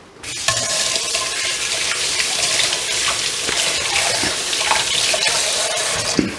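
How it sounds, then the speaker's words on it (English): Steady running water from a kitchen tap as a hand is rinsed while eggplant Parmesan is being breaded, a continuous close splash with no talking. "let me rinse my hand off"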